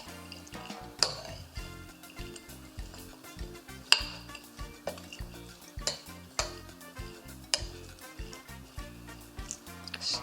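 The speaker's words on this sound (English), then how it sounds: "Let's stir a little bit." Spoon stirring roasted chickpeas and cauliflower in a pan, with repeated scraping and clinking strokes against the metal at a steady, unhurried rhythm over a faint sizzle.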